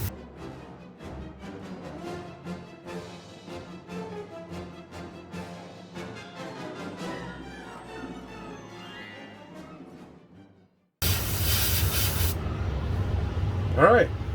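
An airbrush hisses out yellow paint onto a DeAgostini Millennium Falcon model, a steady close spray that starts abruptly near the end after a stretch of quieter background sound.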